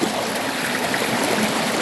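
Water pours forcefully from a pipe into a deep stream pool, a steady broadband rush with no break and no voices.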